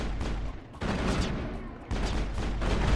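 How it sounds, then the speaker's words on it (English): Gunfire in Mass Effect, loud rapid bursts of shots filling the space, dropping briefly near the one-second mark and cutting off once before resuming dense and continuous. "Where the hell's all this firing coming from?"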